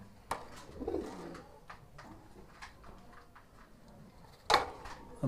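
A pigeon coos up close in a few soft low calls, with scattered clicks and knocks around it and a sharper bump near the end; no one talks.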